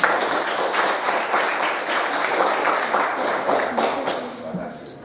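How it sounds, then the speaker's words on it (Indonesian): An audience at a pesantren motivational gathering applauds, a dense, loud wash of clapping that holds steady for several seconds before tapering off at the end. "Tepuk tangan buat kakak."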